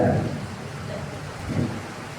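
Steady rain falling outdoors, a constant broadband hiss of moderate loudness with a low rumble that swells now and then, and no talking.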